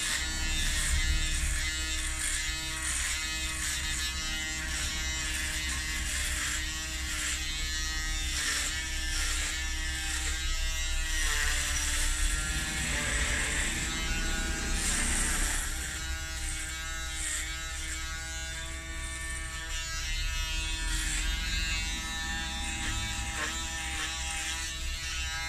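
Electric beard trimmer used for a zero-length beard and hair cut, humming steadily and close for the whole stretch, its buzz shifting slightly in pitch as it is turned and moved.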